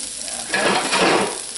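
Sausage drops into a hot pan on a stove and starts frying, a close, steady crackling sizzle that swells after the first half-second.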